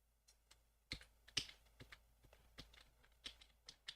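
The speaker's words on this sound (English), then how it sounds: "if the keyboard is like way too loud on" Computer keyboard typing picked up by a microphone during a Star Wars Knights of the Old Republic II game session: quiet, irregular clicks and taps of keys, each keystroke distinct, with no voice over them.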